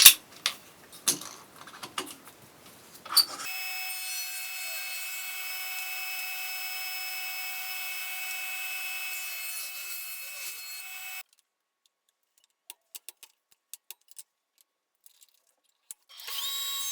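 A power saw blade spins up and cuts through a wooden board for a flag case, a loud steady whine lasting several seconds, then stopping abruptly. Scattered clatter and knocks from the workshop come before and after.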